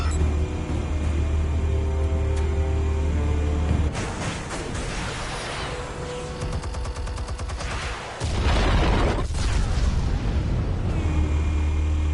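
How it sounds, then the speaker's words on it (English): Armed explosives detonate in a video game, setting off a long, loud roaring blast with crackling debris and rattling bursts that last several seconds before a deep rumble returns. "Explosives armed. Fire when ready."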